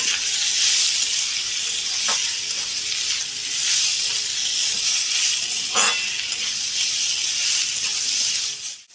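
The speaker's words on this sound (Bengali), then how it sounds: "লাউটা একটু ভেজে নেব" Bottle gourd frying in a pan, a continuous close sizzling hiss with two sharp stirring clacks along the way, easing off at the end.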